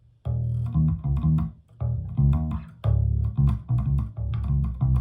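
Solo electric bass guitar runs through the full bass line of a song, a repeating groove of clipped, rhythmic low notes with octave jumps, played close and clear.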